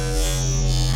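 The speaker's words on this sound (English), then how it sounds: "it's going to cut out all the even overtones and just leave the odd overtones," A dense, buzzy wavetable synth tone with only odd overtones drones steadily for a second, hollow and reedy like a square wave, loud and unchanging.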